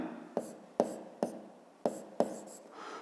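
Pen marks on paper while a 5th-grade geometry answer, a segment length, is recorded: about five sharp, close taps and short strokes in an uneven rhythm over a quiet room, with no talking.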